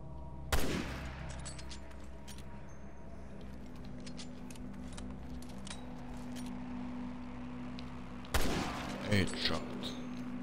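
Gunfire in the video game Resident Evil Revelations 2 comes as two loud sharp shots several seconds apart, with a few smaller bursts following the second, over a low ambient game hum and quiet talk.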